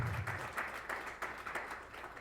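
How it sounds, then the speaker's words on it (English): Applause from a small crowd, a steady patter of many hands clapping at moderate volume, continuing without a break and with no voices over it. "Let's give these guys a big round of applause"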